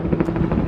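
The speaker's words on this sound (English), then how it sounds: "That helicopter is the worst of all" A helicopter passes overhead, its rotor thumping in a loud, continuous, rapid beat throughout the short stretch.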